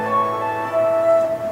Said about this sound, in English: the first theme, which played by the piano, is also doubled by the flute